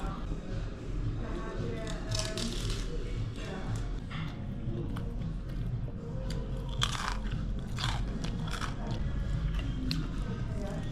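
Someone bites into a crispy pretzel in a German beer hall, with repeated crunches and chewing close to the mic over a busy background murmur of voices.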